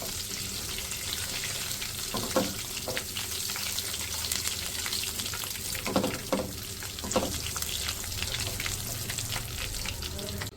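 Whole spices including small green cardamom, dried fenugreek leaves and bay leaves frying in hot oil for a keema dish, a steady close sizzle with occasional scraping stirs and light pops.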